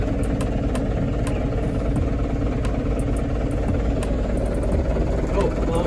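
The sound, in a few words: old bus engine running and warming up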